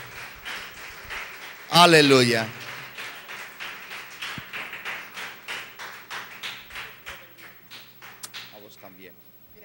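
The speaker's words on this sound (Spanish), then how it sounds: "Denle un aplauso fuerte al Señor" A church congregation at a Friday service claps in a steady rhythmic beat after a loud shout, the claps continuing evenly and fading gradually, with voices calling out over them.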